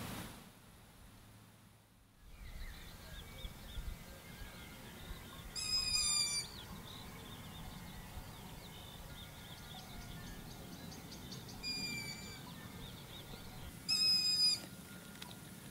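Young long-eared owls screech at night, with short, harsh, high calls spaced several seconds apart, fairly distant over a quiet background hiss and low rustling.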